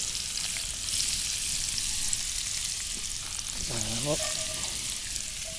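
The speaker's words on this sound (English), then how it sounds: "So I'll cook all this for about 5 minutes or so, and then I'll pull the sausage out when it's nice and brown" Sausage frying in oil in a pan over a low campfire, a steady hissing sizzle throughout, with a brief voice in the middle.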